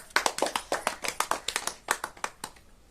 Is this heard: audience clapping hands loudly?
yes